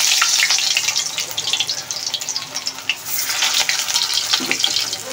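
Frozen samosas fry in hot oil with a loud, close, crackling sizzle that swells and fades in bursts, with no one talking.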